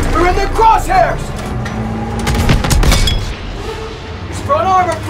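Gunfire and heavy booms ring out against a German Panzer tank during a Call of Duty WW2 battle, clattering and thudding beneath urgent shouted voices of soldiers.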